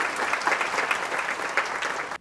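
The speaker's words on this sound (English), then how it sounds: "A round of applause, please." An audience claps together at a Digambar Jain temple's 45th-anniversary celebration during a singing storytelling program, a dense burst of applause that holds steady, then cuts off abruptly at the end.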